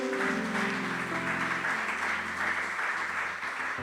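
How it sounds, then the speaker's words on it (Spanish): Church congregation applauding at a Spanish-language service, a steady wash of clapping under sustained organ or keyboard chords that carries on evenly for several seconds. "Dele un fuerte aplauso al Señor,"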